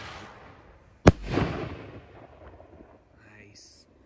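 A scatter bomb firework canister shell bursts with one sharp, loud crack, followed by a short crackling rumble that fades as a voice speaks faintly afterward.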